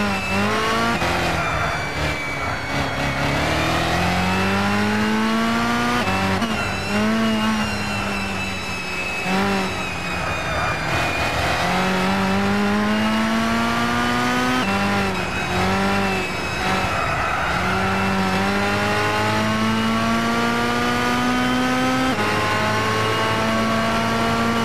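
A Chevrolet Chaparral 2X race car in Gran Turismo 6 revs hard and steadily through repeated gear changes. Its loud, continuous engine note climbs in pitch again and again, with occasional tire squeal and no voices.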